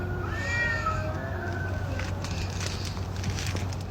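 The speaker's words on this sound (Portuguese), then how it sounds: "ela avistou 2 gatos que estavam ali atrás de um carro fazendo muito barulho." Two cats behind a parked car call out with drawn-out, wavering meows and yowls early on. A steady crackling noise and a low hum continue underneath, and the cries fade into that background.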